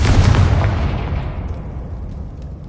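A loud, close Confringo spell blast from Hogwarts Legacy: one heavy booming explosion at the start, then a long rumbling tail that slowly fades over a few seconds, with no voices.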